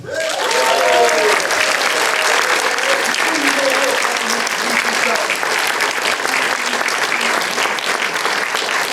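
Loud, sustained audience applause at a TV series premiere screening and Q&A, dense clapping filling the room from start to finish, with faint voices mixed in under the clapping.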